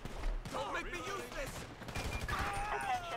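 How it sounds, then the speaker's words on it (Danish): A burst of gunfire in GTA V during a police shootout, several quick shots ringing out close over shouting voices and radio chatter. "Vi melder skud affyret."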